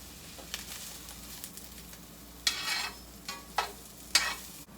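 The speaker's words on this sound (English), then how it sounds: "I'm going to add some butter and add my onion" Onion sautéing in butter in a skillet over medium heat, with a low steady sizzle and several short, sharp bursts of stirring or scraping, fairly close and without talk.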